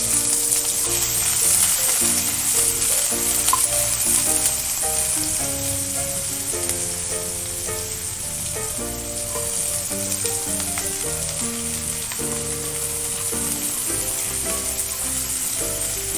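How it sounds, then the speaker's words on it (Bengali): Onion frying in hot mustard oil for egg bhurji, a loud continuous sizzle with light stirring, no talking, over background music. "পেঁয়াজটা হালকা ভেজে নেব"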